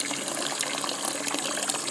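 Steady broadband rush of contaminated water pouring from a public tap, continuous and fairly close, with no voices.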